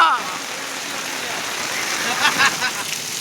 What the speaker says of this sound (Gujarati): હા બસ આડો વરસાદ છે, વરસાદ.